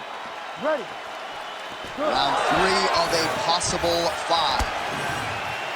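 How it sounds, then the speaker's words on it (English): Arena crowd in the video game EA Sports UFC 5 between fight rounds, a sustained cheering roar under an announcer's voice, preceded by a brief horn-like tone. "The crowd on its feet as this next round gets underway."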